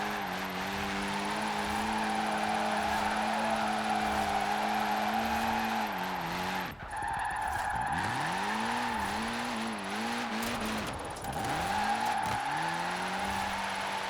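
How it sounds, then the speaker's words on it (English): A classic Citroen DS in Forza Horizon 4 spins its wheels, the engine droning loudly and steadily with pitch dips and swoops as gears shift, tires squealing throughout. "It has enough torque to just constantly keep my wheels spinning"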